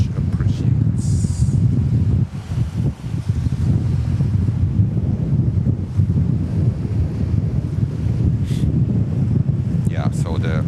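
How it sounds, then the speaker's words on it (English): Strong wind gusts buffet an outdoor microphone at JFK Airport, a loud continuous low roar and rumble that swells and dips across the whole stretch, close and dominant. "the challenge is here when a wind gust hits me"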